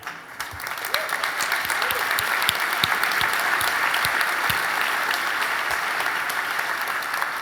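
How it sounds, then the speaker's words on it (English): Enthusiastic audience applause from a large crowd of contributors at the DockerCon 2015 day-one keynote, a dense, steady roar of many hands clapping that holds at full strength throughout. "can you please stand up for a moment of applause?"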